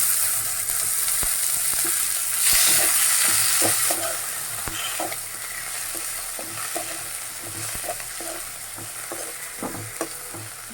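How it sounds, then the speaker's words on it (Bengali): Tomato stirred into fried spice paste for a cabbage bhorta, with a steady close sizzle and repeated scraping, knocking spatula strokes in an even rhythm throughout, no voices. "পেস্ট আমার ভাজা হয়ে গেছে এখন আমি এটার সাথে দিয়ে দিব টমেটো"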